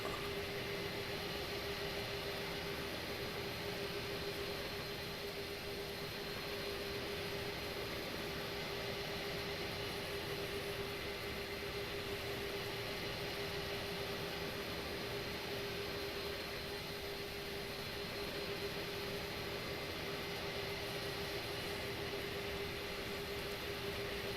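Airbus A310 jet taxiing in Microsoft Flight Simulator 2020, a steady broadband engine hum and hiss with a constant whine, unbroken and even in level for the whole stretch, with no voices.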